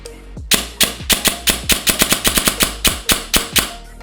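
An SSR9 DSG airgun fires rapid semi-automatic shots, about fifteen sharp, loud reports in quick irregular succession over four seconds, close up with no speech.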